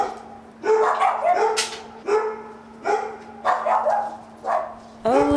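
Several dogs bark in repeated short bursts, about six barks spaced roughly a second apart, fairly close and clear over a steady low hum.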